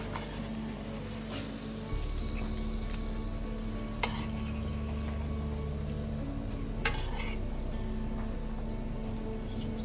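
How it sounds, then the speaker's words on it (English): A pan and utensils clatter as food is plated in an Asian home kitchen, with a steady background hum and sizzle, soft scraping, and two sharp metallic clinks, near and fairly quiet. "Now we're going to plate these up."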